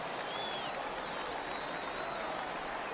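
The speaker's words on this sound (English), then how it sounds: "Crowd gets up for the 3-2" A baseball crowd cheering and applauding as the count runs full at 3-2, a broad, steady roar of distant voices and clapping filling the ballpark with no pause.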